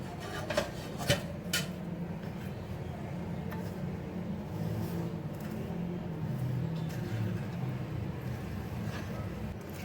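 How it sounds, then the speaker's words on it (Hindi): Ground spices are stirred into oil for a raw mango pickle: a faint, steady rubbing and scraping in a pot, with a few soft utensil clinks near the start. "अच्छी तरह इसको मिक्स करेंगे मसाले को ऑयल में, कोई लम्स ना रहे।"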